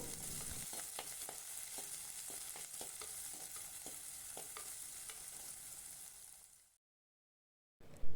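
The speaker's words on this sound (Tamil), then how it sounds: "சின்ன வெங்காயம் ஓரளவுக்கு வதங்கினதுக்கு அப்புறமா பாதி தக்காளி கட் பண்ணி எடுத்து வச்சுருக்கேன்" Small shallots sauté in a pan for a Nagercoil-style anchovy thoran, a dense, continuous sizzle with scattered stirring taps, loud and close, before cutting to a brief silence near the end.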